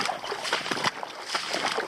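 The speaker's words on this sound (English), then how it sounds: "just going through the shallows of the lake is actually looking like a much easier option than the scrub bashing I was doing" Hiking boots wade through the shallows of a Tasmanian lake near a creek mouth, making soft, faint, repeated splashes and sloshes in an uneven walking rhythm.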